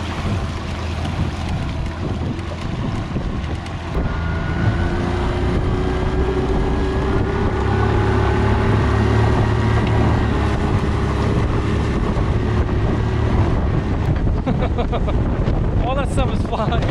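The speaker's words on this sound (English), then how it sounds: "we're gonna go for a little test spin with this Honda 25." A boat runs on a Honda 25 outboard motor, its steady engine drone mixed with heavy wind buffeting and water rush throughout, loud and close.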